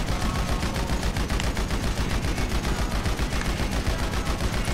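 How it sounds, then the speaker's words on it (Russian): Dense, sustained automatic gunfire in GTA Online crackles nonstop in rapid bursts, loud and close, with no talking over it. "Давай по мне опять стреляют."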